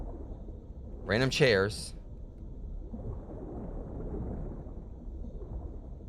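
Low, muffled thunder rumbles softly and continuously as a storm approaches in the Pools video game, following a brief spoken remark near the start.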